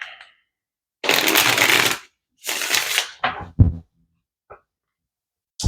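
Tarot cards being shuffled, delivered in a few separate bursts of riffling and flicking with short pauses in between, up close and with no talking.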